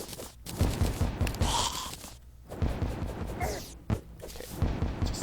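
Enemies in the video game Terraria shoot through walls, a rapid run of close, punchy gunfire bursts and thumps with short gaps between volleys.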